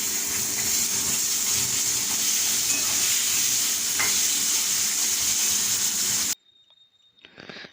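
Long cut potato strips frying in a pan of hot oil, a loud steady sizzle that cuts off abruptly, followed by a brief quieter rustle.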